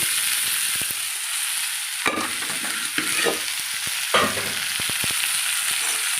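Boiled chickpea sundal tipped into a hot tempering in a home kitchen pan and stirred, giving a steady oil sizzle with repeated scraping and clinking of the spoon against the pan, close and with no voices.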